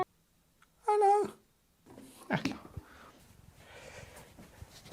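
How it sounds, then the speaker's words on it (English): A neighbour's cat meows once, loud and clear with a wavering pitch, then small shuffling and rustling sounds follow nearby in a quiet room. "This is my neighbour's cat."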